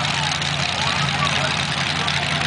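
Race car engines idle and rumble together before a heat race at a track, a loud continuous low drone with a broad roaring hiss and no break.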